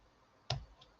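A single sharp snip of ribbon scissors cutting paper, close and crisp, followed by a faint second click in a quiet room.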